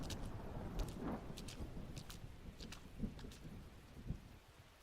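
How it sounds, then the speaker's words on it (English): Heavy rain pours steadily in the video game Arknights, a dense hiss with several soft rumbles of distant thunder rising and fading, no voices heard. "Sir, it's raining so hard out there."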